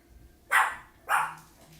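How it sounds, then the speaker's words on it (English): A dog indoors lets out two sharp, loud barks about half a second apart, then falls quiet. "What you barking for?"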